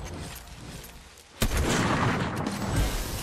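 Gunfire in Fortnite, one sharp close shot followed by a dense spray of rattling reports and rumble over a steady busy background.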